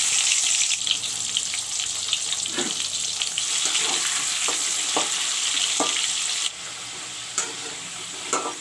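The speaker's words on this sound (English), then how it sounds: "First of all, I will fry the potatoes." Potatoes frying in hot oil make a steady, close sizzle, broken by occasional clinks and stirring scrapes, with no talking.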